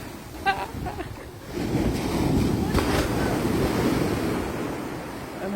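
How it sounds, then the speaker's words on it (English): Big sea waves crash at the Groyne, Little Haven, South Shields, with a loud, broad surf roar that builds partway through and holds steady, buffeted by wind noise on the microphone. "I'll show you the waves."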